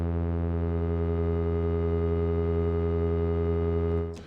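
A Korg Volca Modular synthesizer holding a steady, rich harmonic drone built on a low fundamental with many stacked overtones, sustained evenly for about four seconds before cutting off abruptly.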